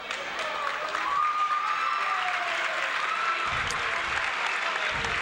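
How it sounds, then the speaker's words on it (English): Fans at a high school boys' basketball game in a gym give sustained applause for an injured player, a steady wash of clapping from the crowd with some voices mixed in, heard at moderate distance. "It's a tough kid getting a nice round of applause by the Sayreville and East Brunswick fans."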